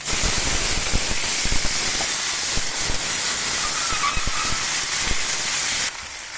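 Tomatoes hit hot oil with mustard seeds, chilies, cumin and garlic for tomato dal, producing a loud, continuous hissing sizzle with sharp crackles and pops that eases slightly near the end.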